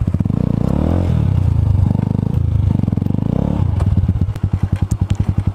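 A Romet K125 motorcycle engine revs hard and loud up close, its steady drone rising and falling, then breaking into a rough, uneven popping chug near the end as the engine seems to struggle.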